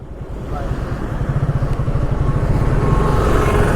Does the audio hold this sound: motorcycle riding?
yes